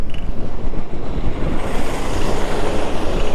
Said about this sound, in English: we'll let this school bus come on by.